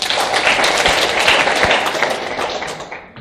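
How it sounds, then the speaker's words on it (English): An audience at the finals of a Kenyan moot court competition breaks into loud, dense applause, many hands clapping together throughout before it starts to fade. "A round of applause, please."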